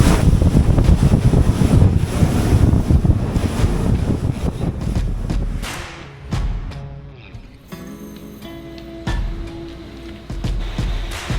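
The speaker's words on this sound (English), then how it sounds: "it's like so windy right now that I could hardly even keep the boat in position" Strong wind buffeting the microphone on a small fishing boat on Lake St Clair, loud rumbling gusts with water slapping the hull, easing briefly midway before picking back up.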